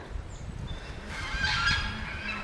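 Geese honk on the water, a few nasal calls in a short burst, fairly close, over soft outdoor background noise.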